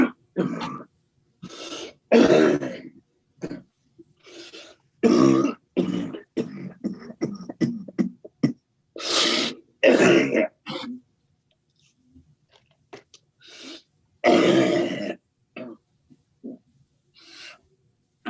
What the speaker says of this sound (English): Take a moment and cough.